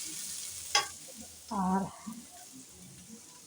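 Potatoes frying alongside idli in a home kitchen pan give a soft continuous sizzle, broken by a sharp stirring clack and a short burst of talking midway.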